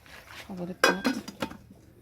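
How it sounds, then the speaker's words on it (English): A metal lid clanks down onto a cooking pot of Jamaican brown stew fish in a home kitchen: one sharp, close rattle with a few lighter clinks after it, over quiet background noise. "Cover the pot."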